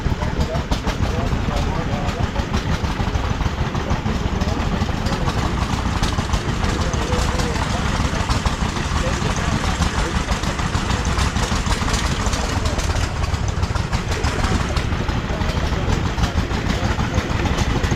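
Old farm engine at an antique tractor show, driving the conveyor belt of a corn sheller with a loud, steady, close-up chugging idle that runs throughout while voices talk in the background.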